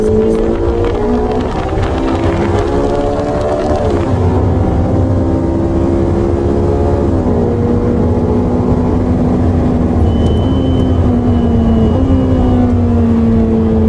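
A Ferrari on a race circuit accelerates hard and runs up through the gears. The engine note climbs, steps down at each shift and climbs again, loud and close, with no voices over it.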